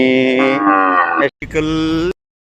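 A dairy cow moos loudly and close by in two drawn-out calls, the second shorter, with a brief pause between them.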